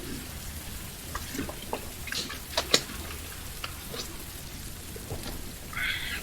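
Soft rain ambience with scattered drops and light ticks over a faint steady patter, fairly quiet and calm, with a brief brighter spatter near the end.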